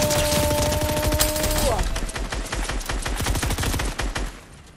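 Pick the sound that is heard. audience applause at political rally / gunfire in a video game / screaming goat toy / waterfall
gunfire in a video game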